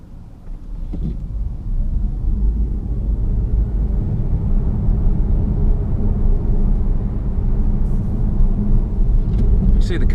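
A BMW i3 Rex electric car pulls away from traffic lights around town, giving a steady low drive rumble and road roar from inside the cabin that swells slightly and holds throughout, with faint high whine.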